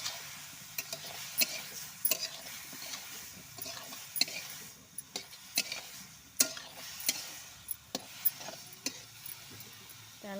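Vegetables for ridge gourd sambar stirred in a pan, with irregular sharp ladle taps and scrapes against the metal over a faint low sizzle, close and unaccompanied by speech.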